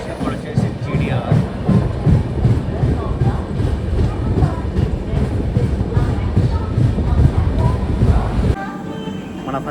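The 12840 MGR Chennai Central to Howrah Mail superfast express rolls along with a loud, close, continuous rumble and rhythmic wheel clatter, then drops off sharply near the end.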